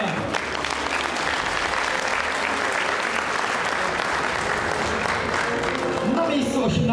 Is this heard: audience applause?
yes